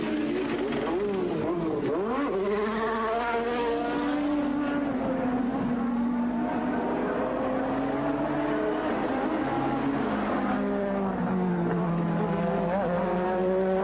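Formula 1 race cars at the 1986 British Grand Prix scream past with rising and falling engine notes, loud and continuous, as several cars pass one after another.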